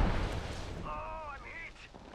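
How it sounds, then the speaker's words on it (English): Gunfire in Apex Legends, a dense burst of loud shots at the start that fades out as a voice briefly speaks over the tail end. "Shots fired at me."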